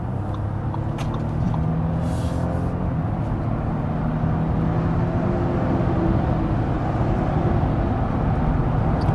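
A hybrid SUV accelerating hard from 80 to 160 km/h, heard from inside as a steady, loud drone of engine and road noise building without letup.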